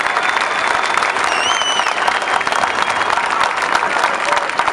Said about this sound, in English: Now, what we have to do, a big round of applause to them.